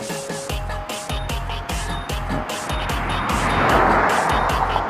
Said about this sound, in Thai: รถจะเยอะนิดนึงครับเพราะว่ามันเป็นทางลัดนะครับ